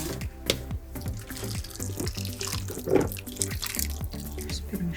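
Water is added to a wet cloud slime mixture in a container, a steady running, trickling pour with small drips, fairly close and continuous, without talk.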